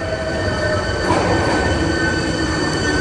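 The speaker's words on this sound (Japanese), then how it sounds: "2番線に到着の電車は日本橋、境筋本町、天神橋筋6丁目方面、" A renewed 7300 series local train bound for Kita-Senri pulls into Ebisucho station, a loud, continuous rumble with thin metallic wheel squeal running throughout, no voices.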